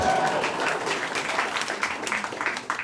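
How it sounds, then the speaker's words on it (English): An audience at a Nerd Nite talk in Christchurch breaks into applause, dense overlapping clapping that holds steady throughout, with a few sharper individual claps standing out near the end. "give him a round of applause for that"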